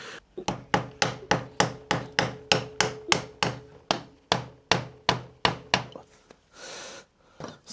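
A rapid series of about sixteen sharp metallic hammer strikes driving a screwdriver through a motorcycle oil filter, evenly spaced and close, each ringing briefly before the next, then a short scraping pause.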